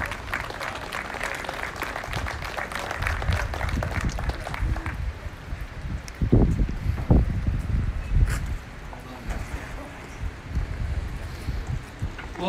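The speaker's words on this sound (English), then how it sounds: "Big round of applause for these guys." An outdoor crowd at a bricklaying competition awards claps in scattered, uneven bursts, with wind buffeting the microphone and some talk mixed in.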